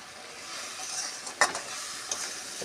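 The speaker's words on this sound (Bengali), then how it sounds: "মশলাটা ফুটে উঠেছে মাছটা আমি এতে দিয়ে দেবো" Fish dropped into a pan of bubbling spice masala for fish biryani, a steady close sizzle and hiss with a few sharp crackling pops as the pieces hit the hot oil.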